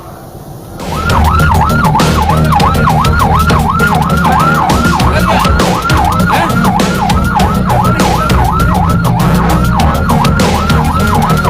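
Ambulance siren wailing continuously in a jammed street with traffic, a loud, close, rapid rising-and-falling tone that starts abruptly and holds steady over engine rumble.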